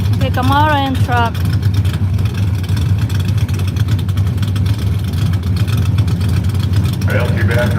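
A Camaro and a truck run at a Firebird Raceway drag race in Boise, Idaho, making a steady, loud engine roar throughout, with an announcer's voice heard over it at the start and again near the end.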